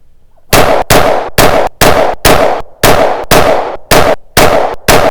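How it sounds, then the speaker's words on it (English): A 9mm pistol fires a string of about ten rapid shots loaded with Remington brass, each a sharp, loud, close crack with a short decay, evenly spaced in quick succession. "Next up, 10 shots with the Remington brass."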